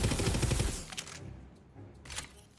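Rapid video-game gunfire from a gun with wavy shots, a dense burst of loud shots at the start followed by a couple of shorter bursts, with game effects around them.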